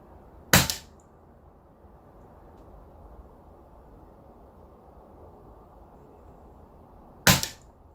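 A Daystate Sovereign air rifle fires two pellet shots several seconds apart while being zeroed at 23 yards, each a sharp close crack over a quiet outdoor background.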